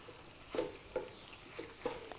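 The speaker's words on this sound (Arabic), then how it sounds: "ونخلط مليح" Boiled macaroni is stirred into an onion mixture in a pan with several soft, irregular scraping and squishing strokes over quiet sizzling.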